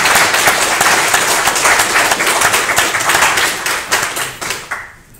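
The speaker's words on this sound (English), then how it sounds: "I ask you to give our colleague another round of applause." An audience gives a colleague another round of applause after an evening talk, loud dense clapping that holds steady and then thins into scattered claps before fading out.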